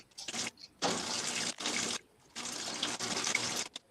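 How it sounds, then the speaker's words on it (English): Water runs in a bathroom in three loud, hissing bursts separated by short pauses, close and steady, with no talking. "I hear water or piss or like something."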